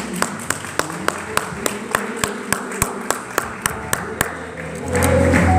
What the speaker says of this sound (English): Let's give the Lord a hand clap this morning.